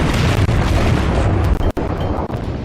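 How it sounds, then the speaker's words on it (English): A Nagato battleship in World of Warships fires a full broadside, a loud, dense roar of heavy naval guns that fills the whole stretch with only brief dips. "So I get my guns ready. Fire a full broadside."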